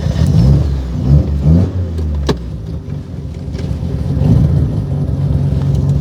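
A Mazda RX7 out on a test drive, its engine revving up and down loudly from inside the car, then settling into a steady driving drone.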